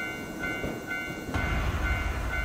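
A train rolls through a railway level crossing in a Japanese horror video game: a steady tonal ring, then a louder low rumble of passing cars that swells near the end, with no voices.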